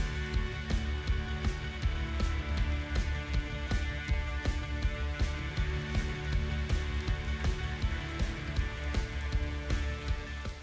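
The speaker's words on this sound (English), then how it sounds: "It's pouring rain." Heavy rain pours at a lake in Algonquin Park, its dense, steady patter of drops close and continuous, with no voices.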